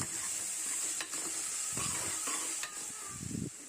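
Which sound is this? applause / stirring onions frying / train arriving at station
stirring onions frying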